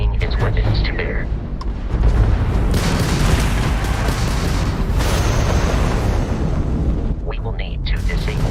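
A Crimson Fleet ship firing its weapons in Starfield space combat, heavy rumbling booms and bursts rolling continuously, loud and near, with a voice speaking over the barrage.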